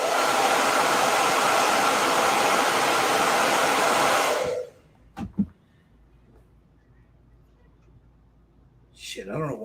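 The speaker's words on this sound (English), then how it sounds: "now I'm going to hit this with a blow dryer" Blow dryer blasting air onto a painting, a loud steady whoosh for about four seconds before cutting off abruptly, followed by a couple of small clicks and a voice at the end.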